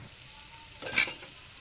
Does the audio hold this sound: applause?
no